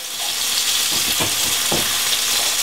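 Three Pacific herring frying together in a pan make a dense, steady sizzle up close, broken by a few soft knocks.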